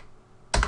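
A single computer keyboard key press lands sharply near the end, a short close click after a quiet stretch of low room hum.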